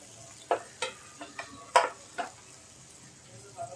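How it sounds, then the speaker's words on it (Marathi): Stuffed brinjals (bharli vangi) frying in plenty of oil, a soft low sizzle broken by a handful of sharp spoon or lid clinks and scrapes spaced irregularly. "हे असं सगळं झालं पाहिजे फ्राय न, म्हणून आपण तेल जास्त घालायचं"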